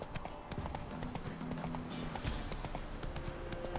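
Roach, the horse in The Witcher 3, trots with a steady stream of hoof clip-clops on the ground, close and continuous, with a light ambient game backdrop.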